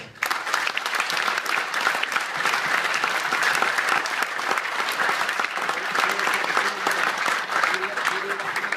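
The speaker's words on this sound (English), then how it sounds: "So the supporters deserve a special round of applause today." Sustained applause from a large crowd, dense steady clapping that fills the whole stretch at an even level.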